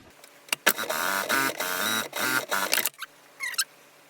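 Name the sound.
sewing machine stitching four fabric layers of a cube hammock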